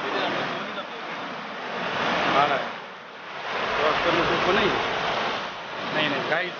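A waterfall near Pune seen from just below its top, a continuous broad roar of rushing water that swells and eases, close and loud, with some wind buffeting the microphone.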